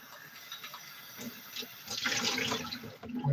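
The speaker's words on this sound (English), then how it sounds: "Rinse out all the seeds." A kitchen tap runs to rinse seeds out of a cut fruit, a steady close hiss of water that swells louder toward the end, with no voices.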